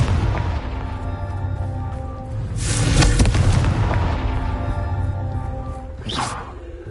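Confringo spell explosions in the Hogwarts Legacy video game, heard as deep booming blasts with whooshes, one big swelling explosion mid-clip and a sharper burst near the end over continuous game ambience.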